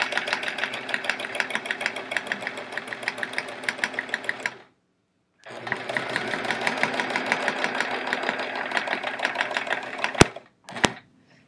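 A sewing machine free-motion quilts a chevron quilt, a steady rapid needle chatter running close and loud, stopping for a short pause, resuming, then ending in a couple of sharp clicks.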